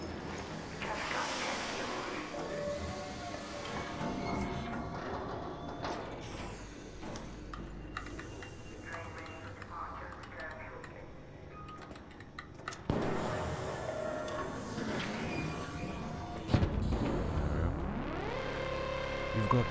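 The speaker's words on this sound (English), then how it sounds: "The train has arrived." A train arrives in the video game Arc Raiders with a steady mechanical rumble and hum, sliding metallic clanks and rising screeches near the end, all fairly loud and continuous beneath game voices.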